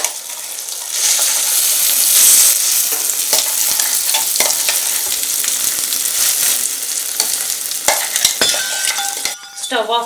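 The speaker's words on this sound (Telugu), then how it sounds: "ఇప్పుడు ఇందులో ముందుగా మిక్సీ పట్టుకున్న పచ్చడి మొత్తాన్ని తీసుకెళ్ళి వేసేసుకోవాలి." Ground ivy gourd chutney hits hot tempering oil in a pan and sizzles loudly and steadily for about ten seconds, with scraping stirs and a few metallic clinks as the sound drops toward the end.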